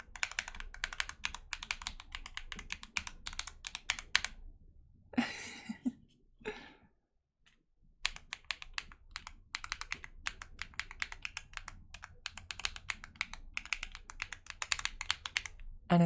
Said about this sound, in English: And I've historically used this for typing sounds.